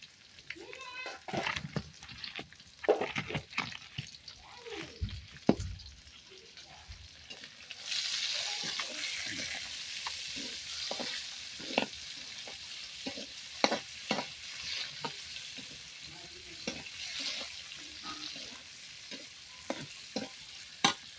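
Taro leaves with chopped onion and green chili frying over a village cooking fire: the sizzle swells partway through, with irregular stirring clatter and knocks and faint voices in the background.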